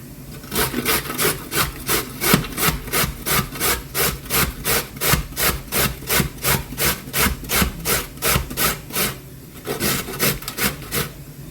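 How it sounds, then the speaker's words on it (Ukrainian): Carrots being grated by hand, a steady run of about two dozen rhythmic scraping strokes, close and fairly loud, with a brief pause near the end before the strokes resume. "І зараз буду терти морквичку."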